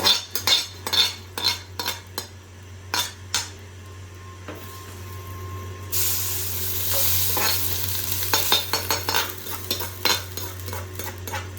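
Cooked pulao rice being mixed by hand rather than with a ladle: repeated close scraping and stirring clinks in a pot, then a steady sizzling wash partway through with the stirring continuing over it.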